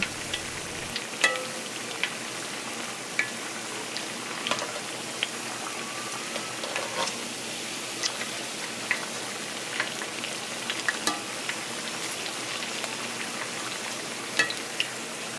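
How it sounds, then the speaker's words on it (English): Steady sizzling and crackling of eggs frying in hot oil over medium-high heat, with scattered sharp pops throughout and no voices. "Let the eggs fry for about 10 minutes or until they're golden and crispy."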